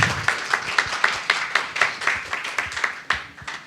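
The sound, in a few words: audience applause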